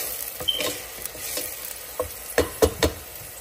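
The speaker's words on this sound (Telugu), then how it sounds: "కొన్ని ఉల్లిపాయ ముక్కలు, పచ్చిమిరపకాయ ముక్కలు వేస్తున్నాం. ఒకసారి కలుపుదాం." Onion and green chili pieces frying in hot sesame oil as they are stirred, a soft sizzle beneath a few close scrapes and clacks of the spoon against the pan.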